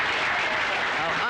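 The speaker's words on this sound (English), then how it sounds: "A big round of applause, ladies and gentlemen." An audience applauds a volunteer on stage at a 1972 comedy show, a dense, continuous wash of clapping heard close and fairly loud.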